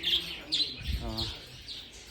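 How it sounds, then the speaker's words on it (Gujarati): A parrot gives several short, shrill chirping calls close by at an outdoor spot, interspersed with a person's voice speaking. "આ પોપટ હે પોપટ હે પોપટ હે હે પોપટ છે"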